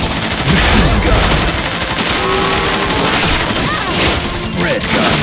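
Rapid machine-gun fire in the video game Bot Vice, a dense continuous rattle of loud shots with crashing impacts, close and sustained throughout.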